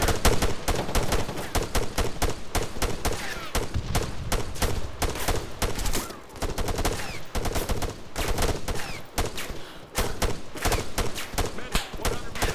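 Sustained heavy video game gunfire in a firefight, loud overlapping automatic bursts and single shots packed tightly together, with short dips in intensity, and voices occasionally shouting beneath the barrage.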